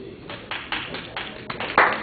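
Audience applause in a lecture hall, a short patter of claps that builds toward the end, fairly close and mixed with faint voices.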